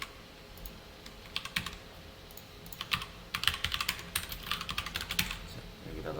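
Someone types jQuery code on a computer keyboard, with bursts of quick clicking keystrokes that start sparse and grow denser, heard fairly close against a quiet room.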